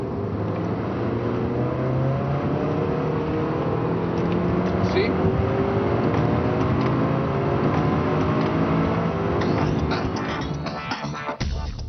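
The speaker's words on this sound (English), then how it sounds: "when you blow the throttle, it's more like a motorcycle, you know, it revs and screams" An Audi A6 engine revs hard and holds a sustained, loud, climbing roar throughout, with a brief spoken interjection near the end.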